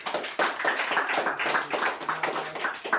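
An audience at a weekly staff meeting claps together, a dense, even patter of many hands that holds steady for a few seconds.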